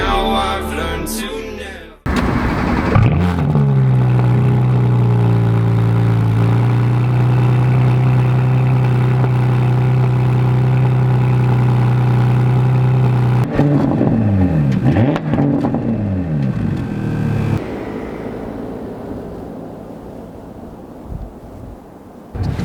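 A 2018 Porsche Panamera 4S engine starts, then idles with a deep steady rumble before revving up and down, loud and close, fading to quieter running at the end.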